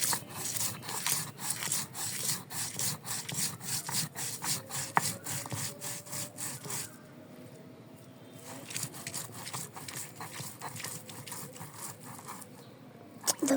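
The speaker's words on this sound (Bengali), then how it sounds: "এখন আমি বেটে নিব।" Flat bean mash with salt, dried chilies and garlic being ground by hand, a fast rhythmic rubbing and scraping that pauses briefly midway and then resumes, close with no talk.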